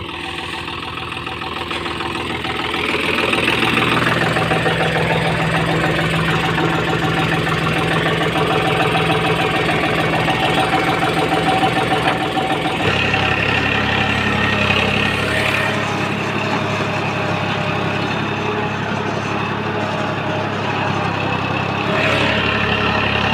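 Diesel tractor engine running steadily while working a field, a loud continuous mid-low drone with a knocking rumble and a brief change in pitch partway through.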